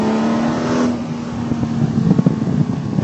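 A race car overtaking alongside a D Type Jaguar during a lap at an HSCC 1966 celebration track event: a steady, loud engine drone heard from on board, with rising rev surges and passing-car roar near the end.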